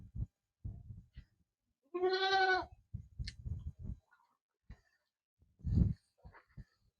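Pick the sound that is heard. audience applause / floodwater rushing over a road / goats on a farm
goats on a farm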